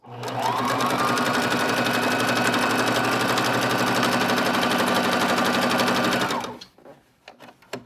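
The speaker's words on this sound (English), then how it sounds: "And you can also back stitch on zigzag stitches as well" A sewing machine running a zigzag back stitch gives a loud, close, continuous rapid mechanical chatter for about six seconds, then stops, leaving faint clicks.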